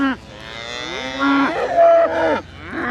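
Cattle on a pasture farm mooing loudly and close, two or three drawn-out, wavering calls overlapping in quick succession with no talking.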